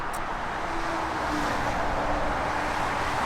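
Motorway traffic rushes past a broken-down Nissan Micra K11 with a turbo on the M25, a steady, loud roar of passing vehicles mixed with wind buffeting, continuous and without voices.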